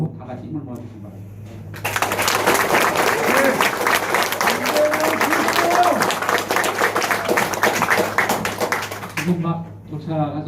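Party members at a Chungbuk members' meeting for a presidential candidate break into loud, sustained applause welcoming the governor, dense clapping lasting about seven seconds before fading, with speech before and after.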